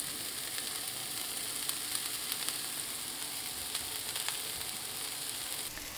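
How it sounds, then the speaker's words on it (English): Brussels sprouts sauté in a pan for an Indian-style stir fry, giving a steady, even sizzle with faint crackles and no talk, moderately quiet throughout. "In goes our Brussels sprouts"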